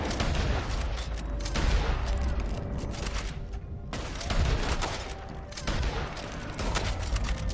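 Sniper and gunfire exchange in Red Dead Online, loud continuous volleys of shots and booms layered over one another, without let-up.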